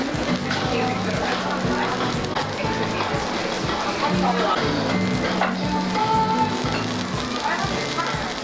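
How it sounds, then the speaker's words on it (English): Okonomiyaki sizzles steadily on a hot takoyaki griddle beneath lively conversation and background restaurant chatter in Osaka. "it's sizzling on the takoyaki grill"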